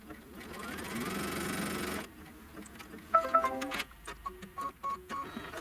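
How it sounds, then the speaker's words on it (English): Embroidery-style sewing machine stitching a seam line on quilt block fabric, a steady whirring run for about two seconds, then clicks and ticks with brief tonal beeps; faint voice murmur underneath. "And it's going to sew the seam line."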